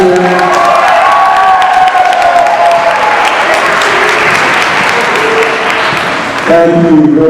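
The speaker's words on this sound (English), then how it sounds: "Can you give this Councilmember Eugene a nice round of applause?" A school audience of students, parents and staff gives a loud, sustained round of applause with cheering and whoops for a city councilmember. It fills the clip, and voices briefly rise over the clapping near the end.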